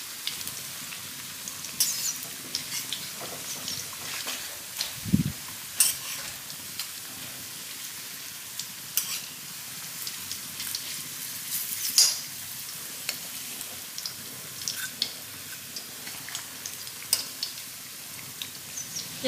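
Food roasting in a pan sizzles steadily at close range, with scattered stirring scrapes and one low thump partway through; nobody talks.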